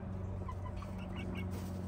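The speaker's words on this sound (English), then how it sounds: "Did you see those chickens sitting down?" Chickens outdoors on grass, sunbathing, give a few soft, short clucks and chirps over a steady low background hum, fairly faint and close.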